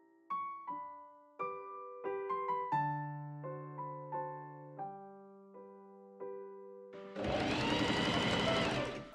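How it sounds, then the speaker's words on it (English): A sewing machine stitching the raglan sleeve seams of a sweatshirt starts after a short run of plucked musical notes, then runs as a loud, continuous whirring rattle for the last couple of seconds. "I pin and machine sew the diagonals of the raglan sleeves where the sleeve meets the bodice on all sides"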